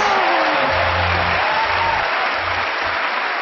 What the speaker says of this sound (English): Give Mark a nice round of applause for helping me.